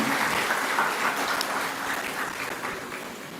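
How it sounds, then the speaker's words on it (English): Applause from the dinner crowd for a Member of Parliament at a Divali dinner and cultural event in Mayaro, a dense, steady wash of clapping that fades slightly toward the end. "Let's give our Member of Parliament a round of applause, ladies and gentlemen"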